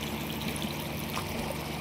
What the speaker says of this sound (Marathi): मोटर चालू आहे इकडं